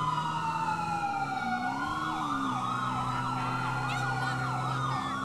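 Police sirens chasing through city streets in GTA 5, a continuous wailing siren with rising and falling tones, several overlapping, at moderate distance with steady traffic noise beneath.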